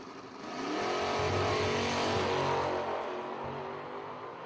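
A pickup truck and a Chevy Vega launch side by side at a drag strip, a loud, sustained roar of engines accelerating hard from the line, close and dominant with no talk over it.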